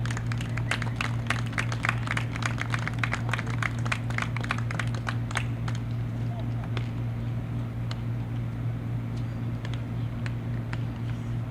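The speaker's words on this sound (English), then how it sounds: "So let's give them another big round of applause." Crowd at a Dodge City A's baseball game gives a big round of applause for host families, dense clapping that thins out over several seconds above a steady low hum.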